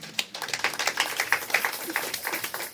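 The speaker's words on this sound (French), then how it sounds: "Acclamez pour la parole du Seigneur." Applause from an audience at a Christian women's church convention, a dense patter of many hands clapping steadily throughout, close and fairly loud with no voices over it.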